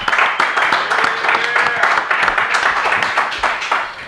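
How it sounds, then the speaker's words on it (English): Lively clapping from a small live show audience, close and continuous, with a voice speaking over the applause. "Let's give him a round of applause."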